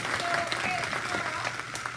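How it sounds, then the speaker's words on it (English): Audience applause for a group of ladies at a bingo event, a steady wash of clapping filling the moment, moderately loud and sustained for a couple of seconds. "Let's give these ladies a round of applause."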